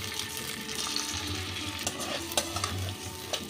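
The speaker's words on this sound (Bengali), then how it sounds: "এবার চালটাকে অল্প ভেজে নেব।" Soaked, drained rice tossed into a pot with fried cumin seeds, hissing and crackling in the fat while being stirred, with occasional sharper scrapes of the spoon.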